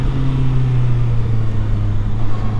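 2021 Honda CB650R motorcycle being ridden, a loud steady engine hum with heavy wind and road noise throughout, no voices.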